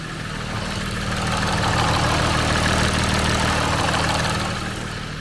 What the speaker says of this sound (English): it is kind of hard for me to talk over the engine